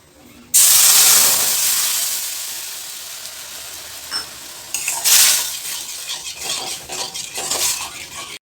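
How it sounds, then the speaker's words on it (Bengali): Whole spices such as peppercorns, clove and dried chilli hit hot oil with a sharp burst of sizzle that slowly fades, then a spoon scrapes and stirs the pan in short, uneven strokes. "এই সবগুলোকে একটু বেশ ভালো করে ভেজে নেব।"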